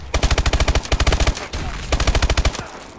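Rapid automatic gunfire in Call of Duty: Advanced Warfare, loud close bursts of evenly spaced shots broken by a short pause and then another burst.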